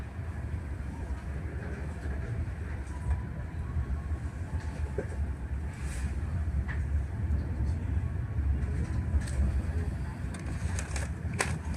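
A passenger train rumbles low and steady at a railway station, with faint clicks and knocks from the cars, while birds chirp and people talk quietly in the distance.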